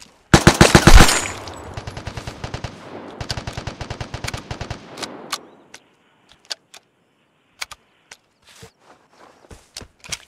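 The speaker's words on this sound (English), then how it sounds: "Where the hell is he shooting?" Gunfire in the video game Vigor: a loud close burst of rapid automatic fire opens the clip, then sparser single shots follow, spaced out and fading toward quieter, more distant cracks.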